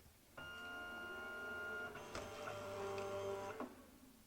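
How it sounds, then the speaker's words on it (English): A Sizzix Eclips2 cutting machine draws its cutting mat inside with a close, steady motor whine lasting about three seconds, its tone shifting pitch midway before stopping. "all we need to do is go ahead and load the mat into the machine"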